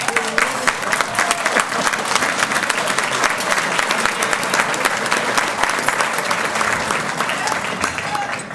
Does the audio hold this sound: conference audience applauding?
yes